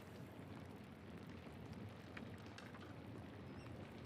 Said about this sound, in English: God, give me the strength to endure the rain